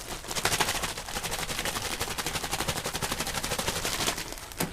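Eggs beaten briskly in a metal canteen cup, a fast, steady clatter of rapid metallic ticks that runs loud and close for several seconds, with no talking.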